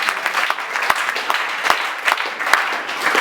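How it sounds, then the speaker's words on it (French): A church congregation applauds, producing a dense, steady patter of many clapping hands at moderate distance for a few seconds. "Acclamons pour le Seigneur."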